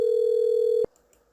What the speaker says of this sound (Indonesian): di sini sudah ada panggilan masuk ya dari 4000